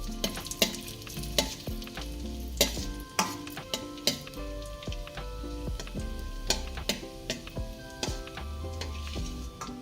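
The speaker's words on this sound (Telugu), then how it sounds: "దీంట్లోనే ఎండు ద్రాక్ష, కిస్మిస్ వేసుకొని ఫ్రై చేసుకోవాలి" Raisins frying in ghee for a poha halwa, a steady low sizzle broken by frequent metallic clinks and scrapes of a spoon against the pan, close and fairly quiet with nobody speaking.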